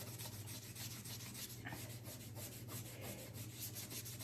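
A wet scrubbing pad rubs back and forth over Dixie Belle chalk mineral paint to distress it, a soft rhythmic abrasive scratching repeated close up and faint, over a low steady hum.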